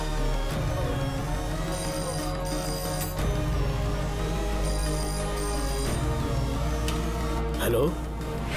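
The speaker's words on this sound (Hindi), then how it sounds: "पहले घर फोन करके देखो" A telephone rings in a home during a tense scene in a Hindi action film, its repeated bell tones sitting under a dense music score that runs throughout.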